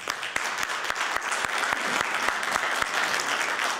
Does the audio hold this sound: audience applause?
yes